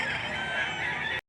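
A chicken calls once in a short, harmonic burst amid the flock laid out at Padre Garcia Livestock Auction Market, a single clear cry that cuts off abruptly.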